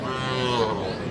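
A cow lows in a sustained, drawn-out moo at a busy cattle market in Aftabganj, Bangladesh, where dairy cows with calves are sold. Crowd chatter and murmur surround it.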